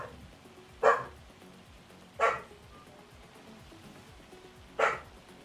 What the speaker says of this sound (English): Doggos!